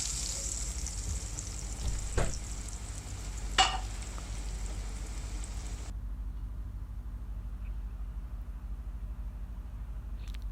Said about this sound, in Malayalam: എപ്പോഴും മീഡിയം ഫ്ലെയിമിൽ ഫ്രൈ ചെയ്തെടുക്കുന്നതായിരിക്കും നല്ലത്